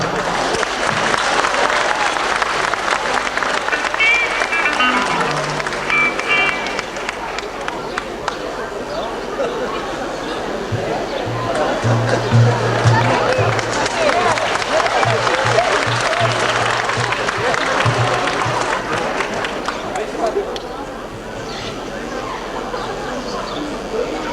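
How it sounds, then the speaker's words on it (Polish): Audience applause at a Polish song contest concert, loud and sustained for most of the stretch, with crowd murmur mixed in and a low hum underneath before the clapping thins toward the end. "Prosimy o brawa."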